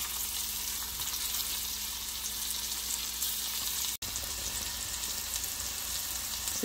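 Okra lightly coated in cornmeal frying in a pan on the stove, a steady, even sizzle of hot oil that carries on unbroken, apart from one brief dropout.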